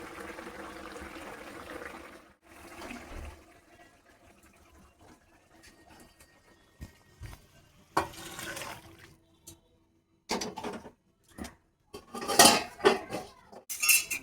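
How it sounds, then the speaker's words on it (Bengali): A metal lid is lifted off a cooking pot in a home kitchen, with scattered clinks and rattles of lid and cookware, bursts of clatter building toward the end and no talking. "এবার তুলে নিচ্ছি ঢাকনাটা।"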